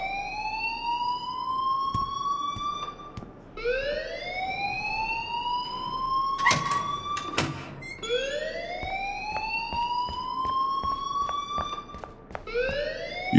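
A school fire alarm in Life is Strange wails in repeated rising sweeps, each climbing and holding before restarting, steady and moderately loud across many cycles, with sharp clanks and bursts in between.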